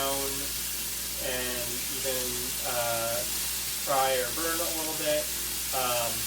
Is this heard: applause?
no